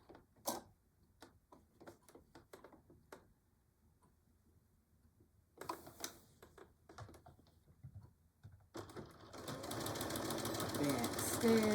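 A sewing machine stitches a Betty Boop pillow cover, a dense steady mechanical whir that builds to a loud continuous run near the end, preceded by scattered ticks and clicks and a short burst of stitching midway.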